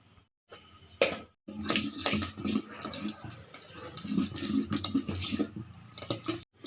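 Dosa batter made with chana dal is stirred with onions and salt, giving wet, splashy scraping and clinking against the bowl in quick uneven strokes, close and fairly loud, with no talk.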